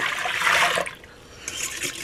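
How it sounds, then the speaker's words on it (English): Warm water poured into a mixing bowl while making homemade bread dough, a brief splashing gush that is loudest early on, tapers off, then returns as a lighter trickle near the end. "then you're going to add two cups medium warm hot water"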